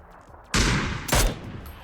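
Two loud bursts of gunfire in PUBG, close and heavy, the second a sharp crack just after the first, with a ringing tail, fired at a car's tire.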